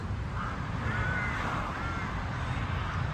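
Crows cawing around their nest, harsh calls rising over a constant loud rumble of a truck cab or roadside traffic, with no talking.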